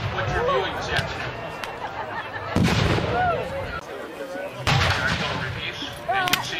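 A Civil War reenactment artillery piece fires during a staged battle, with heavy, booming reports ringing out amid steady crowd chatter and talking across the outdoor field.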